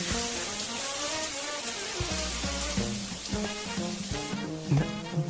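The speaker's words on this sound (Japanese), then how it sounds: "後ろでシャワーの音が聞こえてるだけなのに" A shower runs in a bathroom with a steady, broad hiss of spraying water, while music plays over it throughout.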